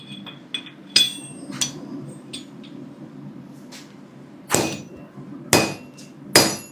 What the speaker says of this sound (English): Swinging the big hammer.